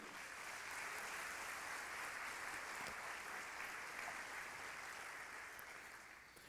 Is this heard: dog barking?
no